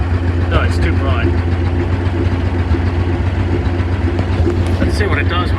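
A WW2-era International KS4 truck engine idles steadily with a deep, even low rumble, close and loud throughout, with faint voices in the background.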